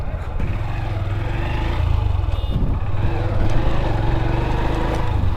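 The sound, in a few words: motorcycle passing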